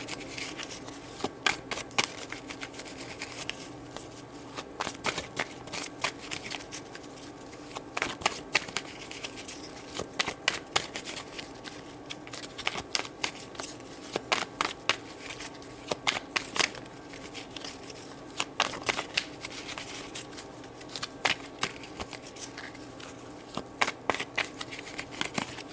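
Tarot cards are shuffled in repeated crisp riffles and soft slaps, sharp irregular bursts of flicking close by at a moderate level, continuing for roughly twenty-five seconds without talk.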